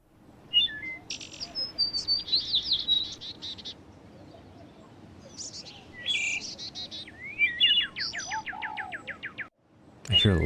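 Several birds chirp and whistle in bursts of bright, rapid notes over a quiet outdoor background in Nancy Drew: Alibi in Ashes, fairly close and alone without talk.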